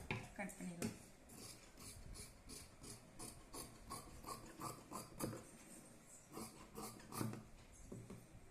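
Scissors cutting through fabric, a close, quiet run of rhythmic rasping snips and rubbing, repeating steadily about twice a second.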